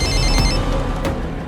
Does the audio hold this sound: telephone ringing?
yes